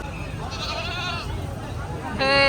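A goat bleats loudly nearby near the end, a wavering nasal cry, after a stretch of people talking over busy background noise at the Shonir Akhra livestock market.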